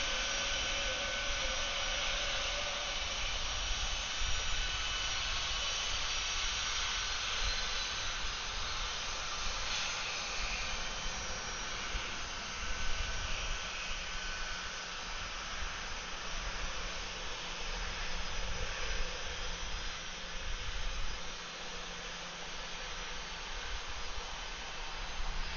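A jet airliner takes off at Atlanta airport, its engines a steady broad roaring hiss that holds for the full length, distant but constant with no talk.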